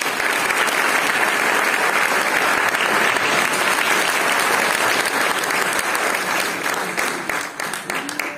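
Sustained, loud applause from a large audience fills the space, steady throughout before thinning slightly near the end.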